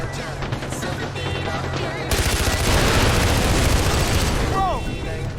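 An AK rifle fires in Far Cry 4 as dense, continuous bursts of gunfire and blasts build to a loud peak midway, mixed with a game voice and other background action.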